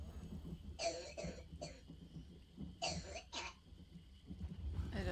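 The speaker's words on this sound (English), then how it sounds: "My kid was just having a coughing fit." A child coughs in short bursts, a fit of two or three clustered coughs near the start and another pair midway, fairly close over a low background hum.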